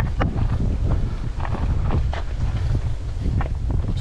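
Strong wind roars steadily across the microphone during a downhill ride on Mt. Oro in Rodriguez, Rizal, with loud continuous buffeting and occasional thumps, with no talk.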